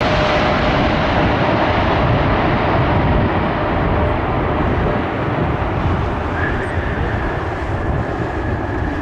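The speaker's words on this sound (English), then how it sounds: "This Atlas Air Boeing 747 comes in extremely hard at Anchorage." An Atlas Air Boeing 747 comes in hard on landing at Anchorage, a loud continuous roar of jet engines and rushing air that stays close and dense throughout, with no voices.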